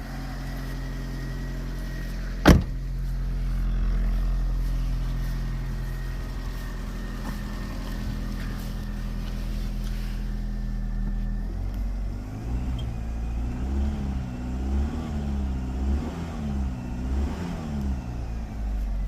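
A 2012 Fiat 500 engine with noisy lifters and smoke runs steadily at idle, with one sharp knock early on and a rougher, pulsing idle later.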